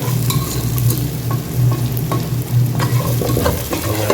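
Onions and potatoes stirred and fried in a pan, a steady dense sizzle running throughout with a low rumble and scattered scraping clicks from the stirring, close and fairly loud with no voices.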